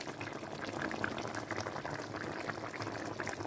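Ekwang, a Cameroonian dish, cooking in added oil in a pot over medium heat, giving a steady, soft bubbling and sizzling that continues evenly at close range.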